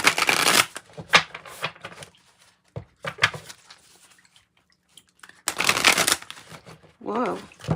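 Animal spirit oracle cards are shuffled in several loud riffling bursts near the microphone, with pauses between and a voice speaking briefly toward the end.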